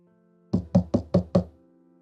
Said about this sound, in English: I knocked on the president's office door with a sliver of hope.